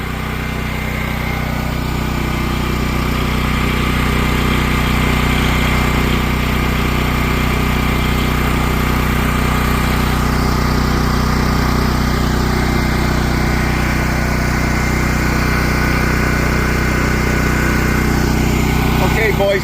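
A propane-fuelled standby generator runs steadily under electrical load, producing a constant, loud engine drone and hum that holds unchanged for the whole stretch.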